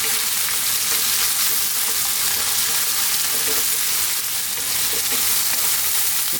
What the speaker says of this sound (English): 2 or 3 minutes. Keep stirring.